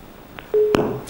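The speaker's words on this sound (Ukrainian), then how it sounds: "в нас вже є перший телефонний дзвінок" A telephone line on a live Ukrainian morning TV broadcast connects with a click, then a steady electronic tone sounds, loud and close, broken by another click.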